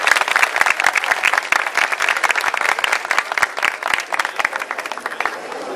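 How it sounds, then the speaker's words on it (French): Audience applauding teachers at a university ceremony, a dense, steady wall of clapping from many hands that holds at full strength for several seconds without a pause. "Je vous demande de les applaudir très fortement."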